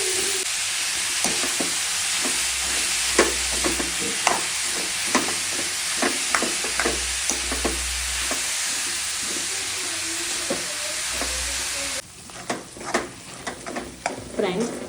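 Carrots and beetroot roasting in ghee give a loud, steady sizzle with repeated stirring scrapes and clinks in a pan; the frying hiss drops away near the end, leaving a few louder clatters.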